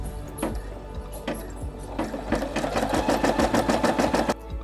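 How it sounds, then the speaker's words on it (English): A home embroidery machine stitches a full-colour logo onto a hooped shirt backed with cutaway stabilizer, giving a rapid, steady run of needle strikes that builds into a loud, even rhythm over a low motor hum, with no talk. "With the embroidery file ready, it's time to stitch the shirt."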